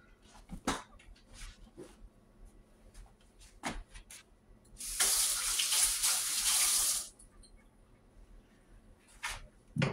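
Water gushes from a kitchen tap for about two seconds as a squash is rinsed under it, with scattered knocks and clatters before and after; no one talks.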